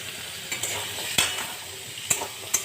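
Potatoes stirred in a hot pan with onion and chili, frying with a steady sizzle broken by a few sharp scrapes and clicks of a utensil against the pan.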